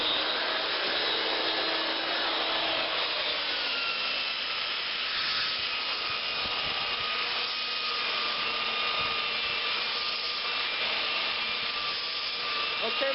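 Power sander stripping stain from a wooden surface down to bare wood, a steady, continuous whir with a faint rubbing grain, held at an even level throughout.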